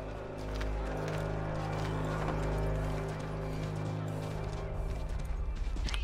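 A horse in Assassin's Creed 3 Remastered is heard over a steady low game ambience, with faint intermittent hoof clatter and no clear rhythmic gallop.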